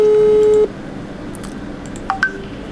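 Telephone tones during a call attempt: a sustained loud tone cuts off, followed after a pause by two brief beeps, close and without speech.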